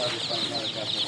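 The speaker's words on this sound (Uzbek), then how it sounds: "Mana jo'jalarimiz akalar." Many Dominant Sussex chicks, egg-and-meat breed hens newly delivered in a factory box, cheep in a continuous high chorus close by, with faint talk underneath.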